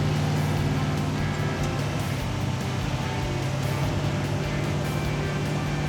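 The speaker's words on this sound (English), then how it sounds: "Oh, it does good burnout." Loud, steady engine roar and tire noise from a 700 hp Hemi-powered AMC Gremlin with a straight axle and loose torque converter doing a smoky burnout, a continuous sustained drone with no pauses.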